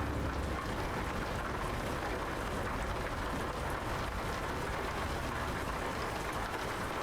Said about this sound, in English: pissed down the rain